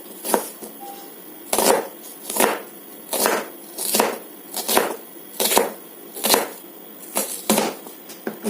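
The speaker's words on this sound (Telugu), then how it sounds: "ఇలా సన్నగా అయితే కట్ చేసుకోండి ఫ్రెండ్స్." Rhythmic knife strokes chopping vegetables thinly on a cutting board, about a dozen crisp, evenly spaced thuds close up with no talking.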